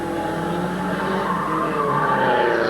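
Race cars roar around Midvale Speedway, an oval track, in a 1999 race, their engines blending into a continuous loud drone with whining, tire-like tones that rise and fall as the pack moves past.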